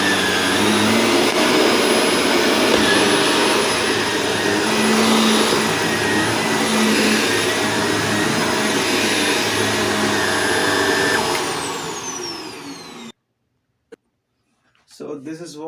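A Shark vacuum cleaner runs with a steady, loud motor whine and airflow roar for about thirteen seconds, then switches off abruptly, leaving near silence with a faint voice at the end.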